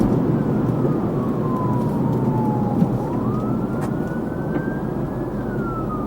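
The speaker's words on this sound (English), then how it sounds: "he's coming with sirens blaring this way." A police car siren wails in slow rising and falling sweeps, fairly distant, over loud continuous road and engine rumble heard from a moving car.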